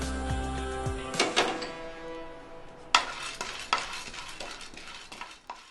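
Chana dal is dry-roasted in a pan for homemade sambar powder, with a utensil stirring the lentils in a series of rough scrapes and rattling bursts over a light hiss. Music plays briefly at the start.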